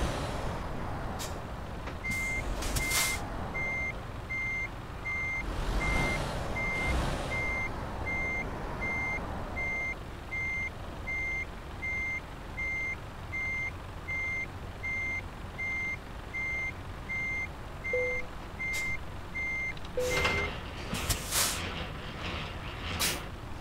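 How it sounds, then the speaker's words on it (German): Mercedes Actros truck in Euro Truck Simulator 2 backing up, with a regular series of reversing beeps over a low engine idle and several sharp air-brake hisses, no talk. "Das fährt unser LKW, ein schöner Mercedes Arctros mit meinem Namen oben drauf."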